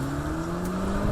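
A Peugeot 308 GTi hatchback engine in Sport Mode gives a steady, sustained droning roar, held at constant pitch and close by, with no talk over it.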